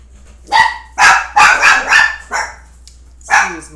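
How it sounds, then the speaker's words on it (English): Indoors at home, a dog barks at someone coming in: a quick burst of five or six loud, close barks, then a pause and one more bark. "Excuse my dog. He's acting a fool because somebody's coming in."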